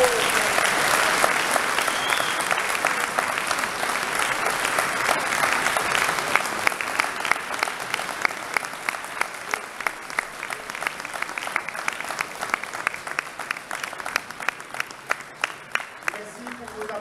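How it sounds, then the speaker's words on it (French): Sustained applause fills a town hall at a mayor's New Year greetings ceremony, a steady crowd of many hands clapping that gradually thins into a lighter, more distinctly rhythmic patter, with some voices mixed in. "Merci pour vos applaudissements"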